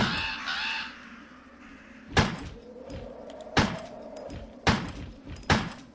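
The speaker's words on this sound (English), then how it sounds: "I assume this means we're going to be fighting crows now." Crows caw at the start in the Resident Evil video game, followed by several sharp, heavy thuds spaced a second or so apart.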